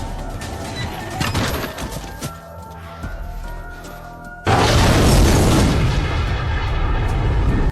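A grenade explodes in a zombie film, a sudden loud, broad blast that holds as a sustained roaring rumble after a stretch of quieter scene noise.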